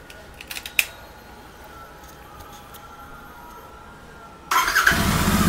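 A motorbike or scooter on its stock exhaust fires up near the end after a few light clicks and a long stretch of quiet, settling straight into a steady, close idle.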